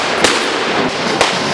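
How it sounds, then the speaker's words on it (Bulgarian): Rifle gunfire as a sound effect: two sharp, loud cracks about a second apart, each bursting out over a dense, steady noisy backdrop, with no voices. "Гъста мъгла от пушечни изстрели обръща върха."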